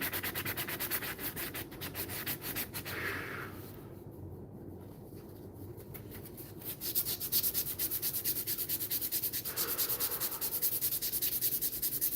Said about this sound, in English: When you know you had enough sanding, the sandpaper starts trying to escape.